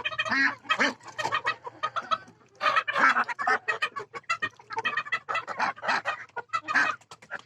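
Chickens and other poultry in a yard during a heat wave cluck and squawk in bursts, several birds close together, with short pauses between their calls.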